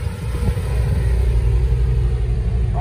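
A Mazda Miata rolls slowly into a car meet, its low engine rumble steady and fairly close throughout, with a brief rising rev near the end.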